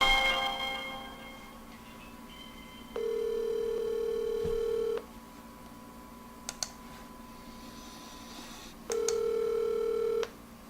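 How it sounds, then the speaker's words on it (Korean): A telephone call is placed, with steady ringback tones in two long bursts separated by a quiet gap, with a few faint clicks in between and no one talking. "제가 전화통화로 한번 연결해 보겠습니다"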